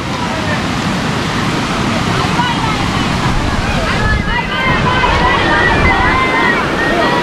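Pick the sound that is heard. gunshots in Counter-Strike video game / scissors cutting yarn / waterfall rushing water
waterfall rushing water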